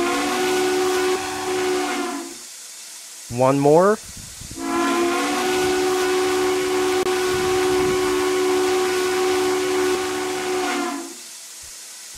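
A video game American steam train whistle blows in two long, steady harmonic blasts with a brief voice in the gap between them, set against a faint hiss.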